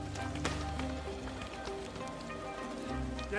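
Rain falls steadily in a film scene as a group stops to pitch a tent, a continuous dense patter and hiss under faint tonal background sound.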